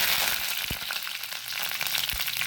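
Dried curry leaves hit hot oil for a Karavali-style cut mango pickle, giving a close, steady sizzle and crackle with a few sharper pops.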